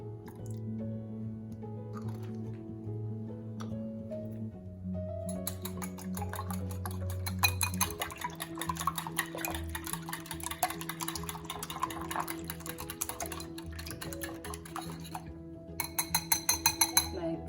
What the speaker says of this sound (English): I'll put 1 cup of vanilla essence in the eggs and whisk everything together